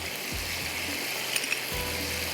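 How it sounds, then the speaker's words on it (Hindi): Tomato, shrimp and ground coriander masala with ground coconut frying in a pan, a steady near sizzle with a few soft scraping stirs. "बस इसको थोड़ा सा भूनना है ताकि टमाटर वगैरह ये अच्छी तरह से सॉफ्ट हो जाए"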